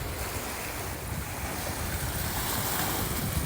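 Sea waves wash steadily against the rocky limestone shore at Odesa, a continuous broadband surf roar with wind noise, close and fairly loud, with no speech.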